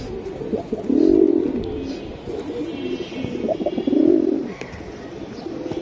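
Giribaj pigeons coo close by, a few soft, throaty rolling calls rising and fading over a low background murmur.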